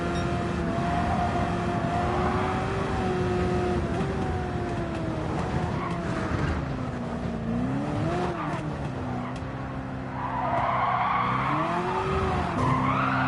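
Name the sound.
car tires skidding while drifting in Gran Turismo 7 video game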